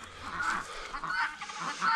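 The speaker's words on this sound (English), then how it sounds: "a whole bunch of guinea hens out here" Guinea hens give harsh, grating calls repeated a few times at moderate distance, a raspy squawking chorus with quiet gaps between.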